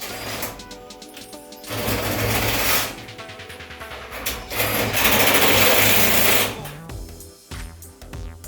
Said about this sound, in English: I had to re-drill a little bit of the holes